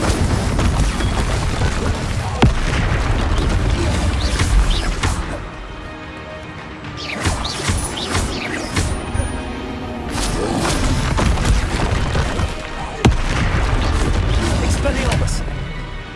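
Incendio fire spells cast in Hogwarts Legacy, several loud whooshing bursts and crashing impacts spread across the stretch, mixed with other combat spell blasts and thuds.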